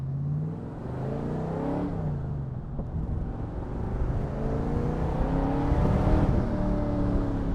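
An AK Cobra's engine revs through the gears on a test drive, pitch climbing, dropping at a shift, then climbing again in a loud, close, continuous roar with no voices.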